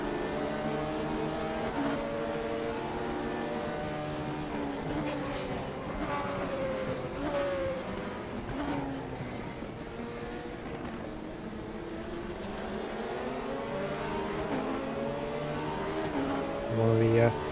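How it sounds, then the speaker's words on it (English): A prototype race car in RaceRoom Racing Experience at Bilster Berg downshifts, its engine crackling raspily on the overrun. The loud engine note sweeps up and down in pitch several times, with other cars nearby. "Very raspy on the overrun when you downshift."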